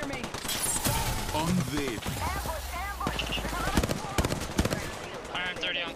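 Rapid bursts of gunfire in Apex Legends crack out in quick clusters amid game effects, with players talking over the shooting.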